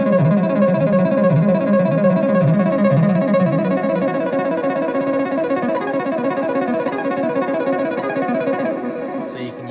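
Looping C.R.A.P. step sequencer patch occasionally resetting outside its loop, a dense, steady electronic drone of stacked tones with distorted, effected texture, continuous and loud until a brief glitchy break at the end.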